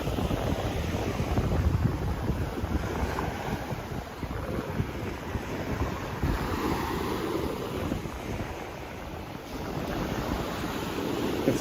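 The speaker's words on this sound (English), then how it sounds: "some ocean, shore break" Ocean shore break rolling onto Sunny Isles Beach in Miami at sunset, a steady broadband wash of surf mixed with wind buffeting the microphone, continuous and fairly loud without distinct wave crashes standing out.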